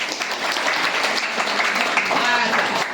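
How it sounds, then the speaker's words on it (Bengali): A small group claps in a classroom-like setting, a brisk patter of hands lasting a few seconds, with voices talking over it. "ও তো নাকি করতালি দিয়ে দেয়"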